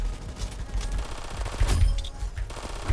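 SMG hip fire in Roblox Aimblox, a busy jumble of rapid gunshots layered with game effects, dense and fairly loud throughout with a few heavier thumps.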